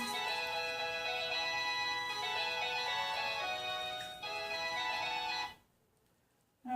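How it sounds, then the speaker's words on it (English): A phone ringtone plays with a steady, repeating melodic ring that holds for about five seconds, briefly dipping once, then cuts off into near silence; heard in a home craft space during soap making. "there goes my phone"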